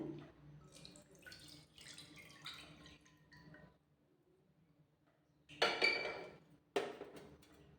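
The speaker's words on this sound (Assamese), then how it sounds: "এয়া মই 1 কাপ গাখীৰ এয়া দিছোঁ এই এখন কেৰাহীতে" Milk poured from a cup into a metal kadai, a soft trickling splash at first, then after a quiet pause louder bursts of liquid hitting the pan, close and alone.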